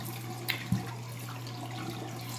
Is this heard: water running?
yes